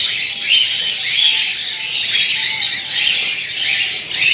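Birds in a white-tailed dove aviary chirp and squawk continuously at close range, with bright calls rising and falling in a dense, overlapping chorus.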